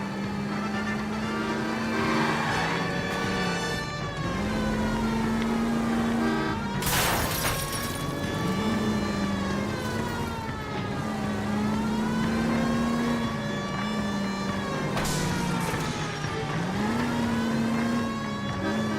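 Pursuit of a stolen green Kaiser Frazer in L.A. Noire: a car engine revs loudly and continuously, pitch rising and falling with each acceleration and gear change, with brief crash-like bursts partway through.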